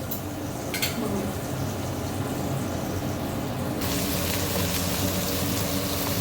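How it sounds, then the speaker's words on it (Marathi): Pomfret fish sizzling in a frying pan, a steady dense hiss throughout with a brief brighter burst near the start and the sizzle brightening partway through. "पापलेटचा आवाज."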